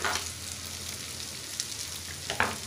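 Chopped boiled potatoes tipped into onions frying in a pan give a soft, steady sizzle, with a couple of faint clinks and stirring scrapes near the end and no talking.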